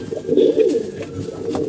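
Pigeons kept for flying coo softly at close range, a low throaty burbling call that runs through a short moment with faint rustling around it.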